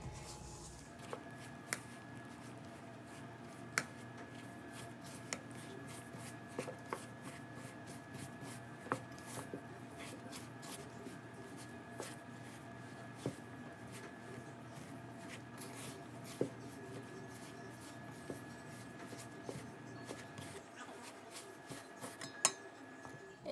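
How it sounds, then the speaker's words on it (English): Soft, continuous scraping and clinking as a mixture is stirred in a bowl, with light irregular taps of a utensil against the sides. "And now you're gonna mix that in."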